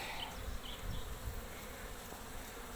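Honeybees humming around an open hive during a colony inspection, a close, continuous buzz with individual bees droning past the listener, no talking.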